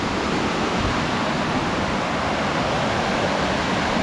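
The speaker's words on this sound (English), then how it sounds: "This is the top of the waterfall here." A waterfall at Licklog and Pigpen Falls roars from its top in a dense, steady broadband rush of falling water, loud and unbroken throughout with no voices.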